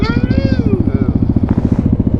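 A Suzuki dirt bike engine revs close by with a rapid, throaty pulsing idle that climbs in pitch, accompanied by a faint whine from a voice or wind on top.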